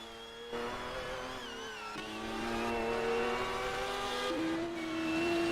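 A GT1 historic race car drives around the track, its engine note whining and rising steadily as it climbs through the gears and accelerates, loud and continuous throughout.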